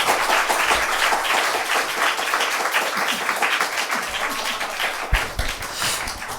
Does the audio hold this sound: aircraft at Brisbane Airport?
no